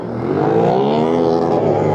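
A racing motorcycle at a Dakar festival race accelerates past nearby, its engine note climbing and sweeping in pitch as it surges by, loud and alone without talking.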